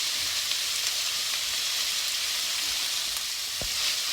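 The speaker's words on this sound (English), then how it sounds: "So now I'm going to cook this for 5 minutes, stirring occasionally." Food frying in a pan while being stirred, a close, even, continuous sizzle with a faint scrape or two near the end, no voices.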